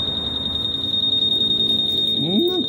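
Smoke alarm sounding a steady, piercing high tone that runs through the whole stretch, with a brief voice near the end.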